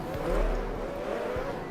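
Race cars in the rFactor game driving on track, a sustained engine drone with a rising and falling pitch, moderately loud and steady throughout the short stretch.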